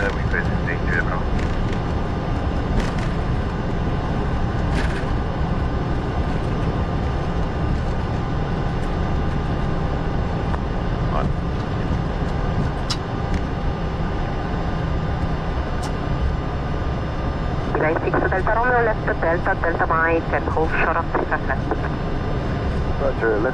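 Airbus A320 in Microsoft Flight Simulator 2020, a Fenix A320 in Brussels Airlines livery at Brussels Airport, rolls for takeoff with a steady, loud jet engine roar throughout, while cockpit radio chatter cuts in and out.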